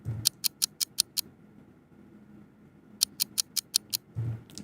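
An unprocessed, dry clock sample ticks in two bursts of six crisp, sharp clicks each, separated by a quiet gap, faint and alone with no talking.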